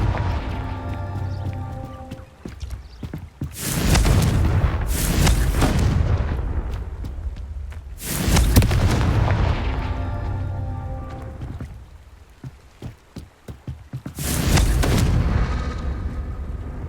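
Repeated Confringo fire-spell explosions in Hogwarts Legacy, with four heavy booming blasts spaced a few seconds apart. Each blast has a crackling tail, and quieter rumbling and pops fill the gaps.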